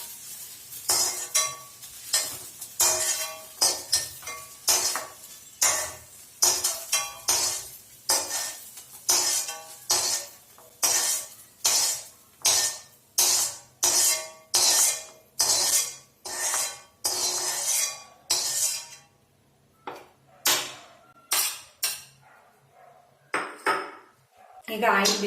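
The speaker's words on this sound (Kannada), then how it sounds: "ಇದನ್ನ ಒಂದು ಬೌಲಿಗೆ ಎತ್ತಿಟ್ಕೊಳ್ಳೋಣ" Fried okra scooped from a pan into a bowl, a regular series of sharp spatula scrapes and clinks against metal, with light sizzling and short pauses between scoops.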